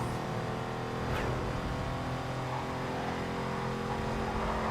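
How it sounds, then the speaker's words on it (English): A muscle car accelerates hard in the racing game Need for Speed Carbon, its engine a steady, loud, continuous roar with a brief whoosh near the start and no talking. "This is where the acceleration of the muscle car will really help me."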